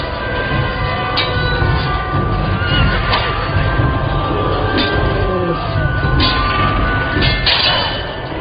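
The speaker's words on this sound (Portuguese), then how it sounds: "o relinchar de um cavalo em dor" A horse neighing in pain, shrill whinnies repeating over a dense, noisy background of thuds and clatter, loud and close, with no speech.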